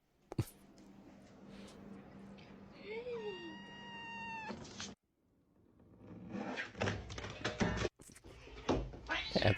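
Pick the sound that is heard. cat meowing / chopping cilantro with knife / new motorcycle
cat meowing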